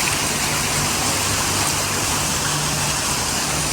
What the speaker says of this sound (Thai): ก็มีน้ำตก